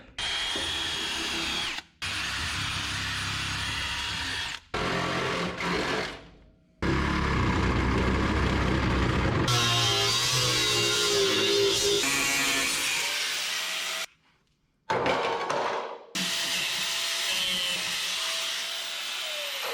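A power tool trimming the bottom off the inner fenders during a 1963 IH Loadstar truck chassis swap, loud whirring runs of several seconds each, stopping and restarting repeatedly with short silent gaps.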